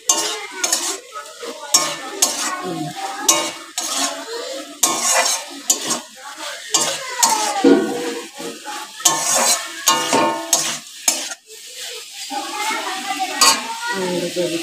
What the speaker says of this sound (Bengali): আর ওইদিকে মাছ দিয়ে আলু দিয়ে চচ্চড়ি হচ্ছে।